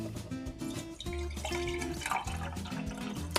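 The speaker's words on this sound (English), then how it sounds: "I'm gonna pour it in some glass so we can compare the first 2 batches with this one." Palo azul tea being poured into a glass, a continuous trickling and splashing of liquid with shifting pitch as the glass fills, close and fairly quiet.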